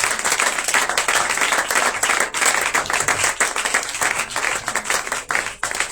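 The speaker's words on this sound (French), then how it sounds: "Sous vos acclamations, s'il vous plaît." A church congregation applauds and cheers, a dense, continuous wash of clapping with crowd noise that stays loud and steady throughout.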